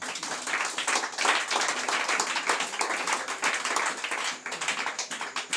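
A church congregation claps together in praise of the Lord, a dense, steady wash of many hands that stays loud and close throughout, with no voices standing out.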